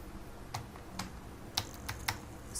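Keys on a computer keyboard click in a handful of separate, quiet taps during JavaScript coding, close by and alone.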